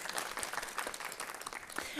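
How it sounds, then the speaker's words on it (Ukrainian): At a Ukrainian media forum on radio in Crimea, the audience gives a quiet, continuous scatter of applause, with a voice speaking over the clapping. "І оплески."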